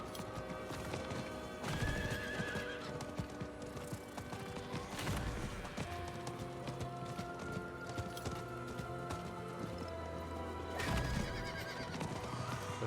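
A horse gallops with steady clip-clop hoofbeats and whinnies loudly in the action role-playing game Diablo 4, mixed with game music and mechanical effects, no talk.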